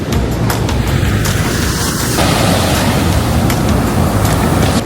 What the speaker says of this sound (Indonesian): Soalnya ada suara ombak.